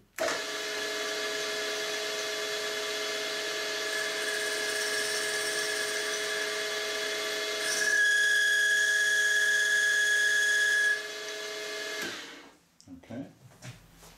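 A milling machine takes a light cut on sine bar box bodies, producing a steady high whine and ringing cutter tone that intensifies midway, then spins down and stops, followed by faint handling noises.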